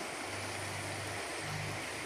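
A creek swollen after rain and running as high as the neighbouring rice field gives a steady, dense rushing wash, constant and moderately close, with a faint low hum underneath.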